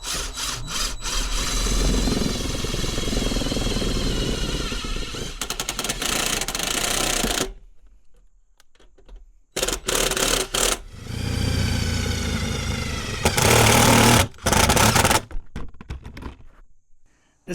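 A power driver sinking a screw through a molding hole in a cheap metal toolbox on a Kubota B2601 compact tractor, loud grinding bursts that stop and restart with pauses and a few knocks.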